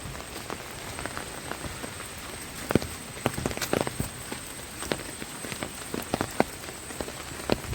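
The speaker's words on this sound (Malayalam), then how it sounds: "നല്ല മഴയാണ് ഗൈസ്. നല്ല രീതിക്ക് മഴയൊക്കെ ഉണ്ട്." Heavy rain falling steadily, a continuous close hiss dotted with sharp individual drops hitting a nearby surface at irregular intervals, no voices over it.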